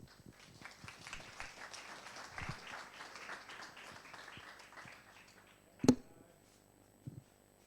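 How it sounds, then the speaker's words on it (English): Seminar audience applauding to welcome the next speaker at a life science lunch talk, a soft, steady patter of many hands, fairly faint, ending with one sharp knock near the close. "please give a big applause to Thomas"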